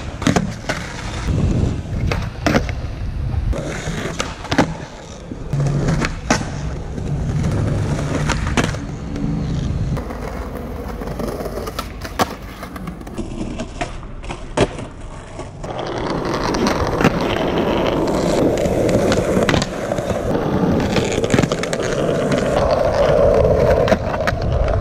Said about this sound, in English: Me skating on an 8-inch board